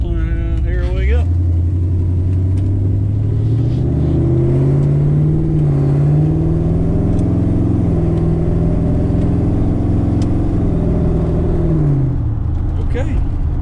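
A car engine sits under steady talk from inside the cabin, then pulls away. The revs climb in long rising sweeps with brief dips between them, like gear changes, and the engine settles back as the car rolls on.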